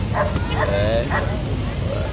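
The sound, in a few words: police security dog barking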